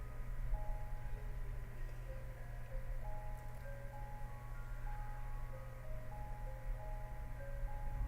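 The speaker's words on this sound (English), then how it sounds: "Now we can hear the Mr. Ice Cream Truck." An ice cream truck playing its jingle somewhere off in the distance, a thin tinkling melody that carries on without a break over a steady low hum of outdoor background noise.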